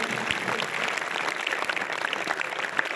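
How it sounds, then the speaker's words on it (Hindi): Audience applause at a spiritual discourse on student focus during exams, a steady crowd clapping that fills the whole stretch at even, moderate loudness with no voice over it. "ताली बजाओ इस बात पर।"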